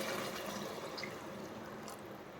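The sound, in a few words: water from boiled chicken poured into masala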